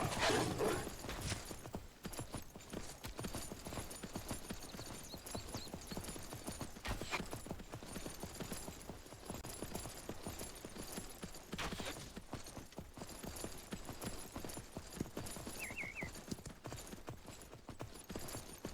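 Horse hooves galloping in the survival video game Myth of Empires, a fast steady clip-clop of hoofbeats that runs on without a break, with faint rustling and clatter behind it.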